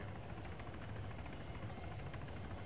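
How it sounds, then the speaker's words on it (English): Military helicopter in a Falklands War combat video game: a steady, close rotor-and-engine drone that fills the whole stretch without a break, with no talking over it. "We have helicopter sounds."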